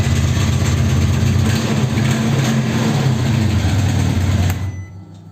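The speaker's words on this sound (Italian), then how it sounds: "una volta, vedete, la moto è partita" A motorcycle engine idles steadily and loudly after being jump-started with a Parkside jump starter, a low rumbling drone that holds for several seconds before abruptly cutting off near the end.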